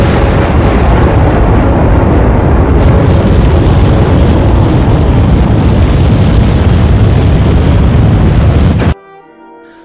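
A loud sustained explosion roar depicting the Big Bang, a dense rumbling blast that fills nearly nine seconds before cutting off abruptly into a faint tail.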